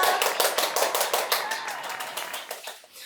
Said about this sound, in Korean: 응원의 박수 같이 쳐드릴게요.